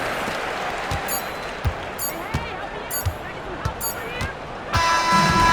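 Crowd cheering and applause in an NBA 2K26 basketball game, a steady arena roar under sharp ball bounces and squeaks, swelling louder near the end as a commentator's voice talks over it.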